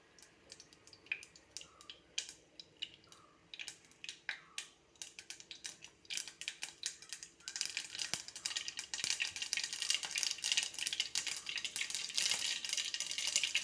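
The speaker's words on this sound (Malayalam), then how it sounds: "അപ്പോഴത്തേക്ക് കടുക് ഇട്ട് കൊടുക്കുക, കടുക് പൊട്ടട്ടെ." Mustard seeds pop in hot oil. Sparse, sharp crackles come first, then grow into a dense, steady spluttering near the end, with no voices.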